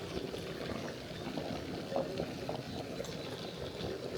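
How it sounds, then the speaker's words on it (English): Water comes to a boil in an outdoor camping kettle, a soft continuous bubbling and hiss at low volume with a few small pops, close by and without speech. "I think we're boiling already actually."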